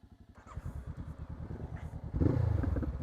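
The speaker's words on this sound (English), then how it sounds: "Now Ryan just fitted a Delkovich exhaust to this thing and it sounds pretty good." A Honda CB500X motorcycle engine with a loud aftermarket Delkevic exhaust idles and burbles with a rapid throb, then revs up louder near the end.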